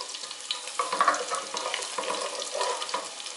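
Cumin seeds and onions frying in a pan over a medium gas flame, a close, busy sizzle with bursts of crackling and the rhythmic scrape of stirring throughout, no voices.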